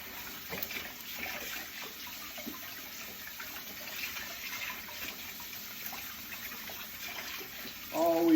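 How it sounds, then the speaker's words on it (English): Water runs steadily from a kitchen tap while a spatula is rinsed beneath it, a continuous close hiss with faint clatter, ending in a brief louder splash. "I'm gonna wash this spatula and"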